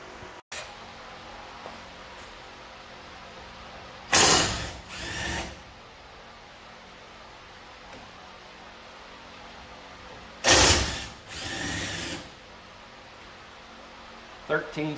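A power tool, likely an impact wrench, loosens bolts on the caliper bracket of a 2019 Ram 1500 Classic in two loud, close bursts of about a second each, spaced apart, with quiet shop background between.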